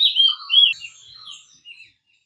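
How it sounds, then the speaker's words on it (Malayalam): Common hill myna calling in Western Ghats forest near Munnar, a few loud, clear whistled and chattering notes in quick bursts, close and alone, fading out after about two seconds. "ഇയാളെ നിങ്ങൾക്ക് അറിയാലോ, കാട്ടുമൈന, കോമൺ ഹിൽ മൈന"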